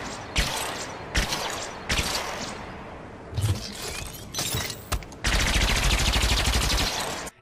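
Sharp, crackly Needler shots in Halo Infinite, several bursts of rapid firing ending in a sustained stream of fire, loud and close.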